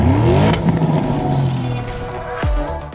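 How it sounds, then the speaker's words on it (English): A 2021 Porsche Cayenne GTS with its standard sport exhaust and lateral tailpipes, a close, loud engine note that rises and falls, then a sharp rev and a quick downward sweep near the end. "The Cayenne GTS comes with a specifically attuned sport exhaust system fitted as standard."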